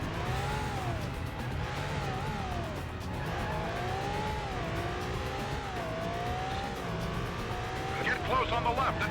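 Stuntman video game car racing with skidding tires, a steady engine drone with rising and falling pitch sweeps running throughout, loud and continuous, with a brief burst of screeching near the end.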